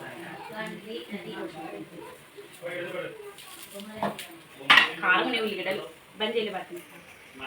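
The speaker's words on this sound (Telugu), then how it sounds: "ఇక్కడైతే నేను కూరగాయలు కట్ చేస్తున్నానండి" Kitchen knife work on vegetables, with scattered clinks and clatter of utensils and dishes close by, under steady talk from someone speaking nearby.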